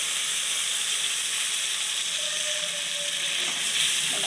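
Water poured into hot fried spice masala in a pan gives a steady, loud sizzling hiss with steam that continues evenly throughout, with no talking.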